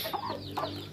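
Free-range village hens and laying-breed chicks clucking close by in a backyard coop, two short bursts of clucks over a low steady background hum.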